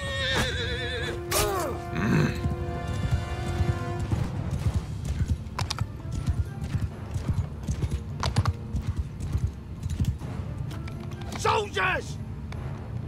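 Horse hooves clip-clop in a steady rhythm amid Mount & Blade II: Bannerlord game action, with a horse whinnying and a voice talking over it.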